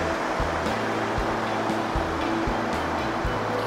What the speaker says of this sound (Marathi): हे पहा, पाण्याचा फ्लो, सुंदर आवाज येतोय